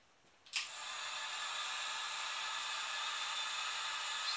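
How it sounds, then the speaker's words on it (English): A heat gun switches on with a click and runs as a steady, loud airy whoosh, heating a protector on an iPhone USB cable, continuing alone without talk. "I'm gonna put it on the cable, and I'm using the heat gun"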